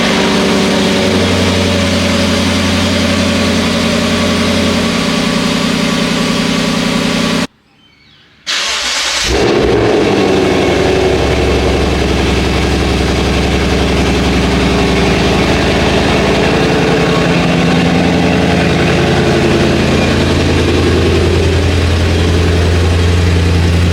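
A Lexus GS F with an Apexi midpipe exhaust idles loud and close, a steady deep rumble broken by a brief gap, then settling back into a continuous low drone.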